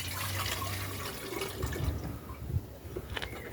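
A pint of filtered spring water pours into a pot for tea on an off-grid wood-heated setup, a short splashing trickle fading into drips and small clinks.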